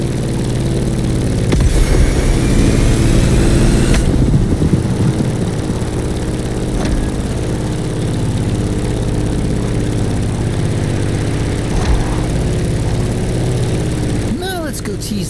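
A propeller plane engine in the racing game The Crew Motorfest drones steadily and loudly throughout, with a low rumbling hum that barely changes. A voice talks over it now and then.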